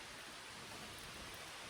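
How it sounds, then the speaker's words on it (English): Steady rain falls outdoors, a soft, continuous hiss that stays faint and even throughout, with no voices. "But look, it's just raining out here."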